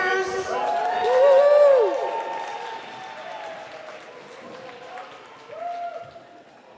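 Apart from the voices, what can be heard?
crowd cheering and applauding for the event volunteers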